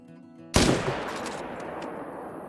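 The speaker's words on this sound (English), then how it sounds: "I'm gonna go ahead and shoot this feller" A single loud hunting-rifle shot rings out at a deer in theHunter: Call of the Wild, with a sharp crack after a quiet lead-in and a long echoing tail that fades slowly across open ground.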